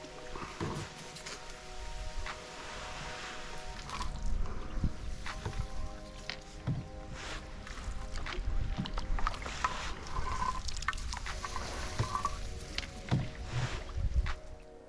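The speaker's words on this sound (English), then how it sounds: "the sounds, musical against the rocking of the canoe, as our paddles push forward and occasionally knock" Canoe paddles push through water in slow, repeated strokes, with soft splashes, gurgles and an occasional wooden knock in a quiet outdoor setting among tall reed beds at an English nature reserve.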